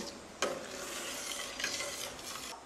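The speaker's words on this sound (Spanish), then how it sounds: "Vamos a mezclar bien esto." Roasted pumpkin cream with ginger being mixed in a pot: soft, faint stirring and gentle scraping with a couple of brief louder strokes over a low simmering hiss.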